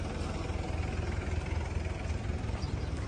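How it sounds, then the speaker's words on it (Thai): Diesel engine of an Isuzu NPR71LY garbage compactor truck running steadily at idle, a constant low rumble heard up close with no talk over it. "มาโชว์ระบบอัดครับ ว่ามันจะอัดยังไงนะฮะ"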